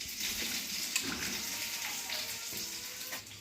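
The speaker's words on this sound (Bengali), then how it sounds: "কাঁচা লঙ্কাগুলোকেও ভালো করে ধুয়ে নিয়ে জলটা ফেলে দিচ্ছি" Amla and green chillies are rinsed in a bowl of water and the water is poured off, a soft continuous splashing and trickling with a few small sloshes, close by and alone.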